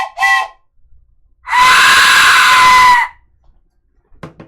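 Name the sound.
death whistle and train sound effects combined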